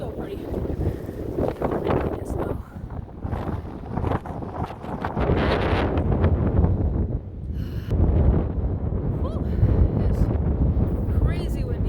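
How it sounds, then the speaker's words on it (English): Strong gusting wind during a windstorm in Kansas roars as steady, loud buffeting on the microphone across the whole outdoor stretch, with bursts building and easing. "It's crazy windy."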